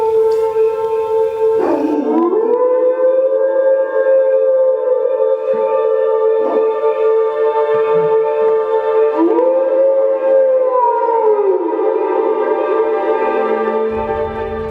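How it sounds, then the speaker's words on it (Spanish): Several dogs in a village howl together in long, sustained, wavering tones, with rising and falling pitch swoops around two and ten seconds, loud and continuous throughout. "Los perros del pueblo aullaban."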